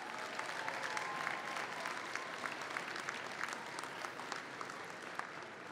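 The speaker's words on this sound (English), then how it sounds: "So if you'll just give them a little applause." An audience at an accounting commencement ceremony claps for the staff, a faint, even patter of many hands heard from a distance.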